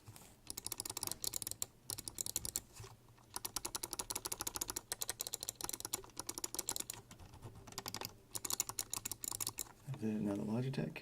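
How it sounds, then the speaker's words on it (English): Rapid, crisp clicks from the buttons of an Elecom M-XT3DRBK trackball, pressed close up in dense bursts with short pauses between runs, ending as a voice starts speaking. "we're gonna go ahead and start clicking on this one first"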